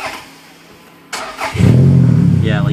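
A Toyota Camry race car engine cranks briefly, then fires up and settles into a loud, steady, rumbling idle right near the listener.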